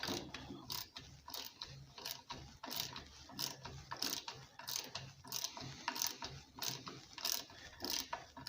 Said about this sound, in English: I'm gonna use the ratchet to go faster.